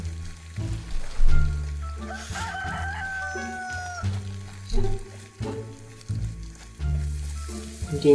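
Chickens in the survival game DayZ, giving intermittent clucks and crowing calls over a low, steady ambient drone, with no talking.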